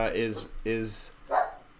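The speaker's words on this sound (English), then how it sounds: "that barking right there" A dog barks a few times in a room during a podcast-style show, short yaps that sit under and between people talking nearby.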